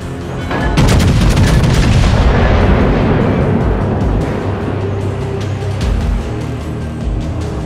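Tank guns and explosions boom through a video game battle, with heavy, continuous loud rumbling and cracking blasts layered over each other, no talk.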